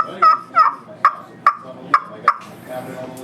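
Six evenly spaced yelps from a turkey call made for a ministry, tuned to imitate a deep-toned gobbler, sounding close and loud with no talking; the calls stand out sharply against a quiet background.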